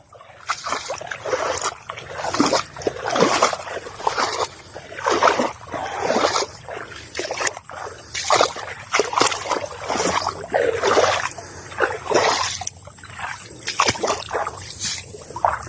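Water is scooped repeatedly from a fishpond to fill drinking water for cattle: close splashes and sloshes roughly every second, with trickling between scoops and no talk.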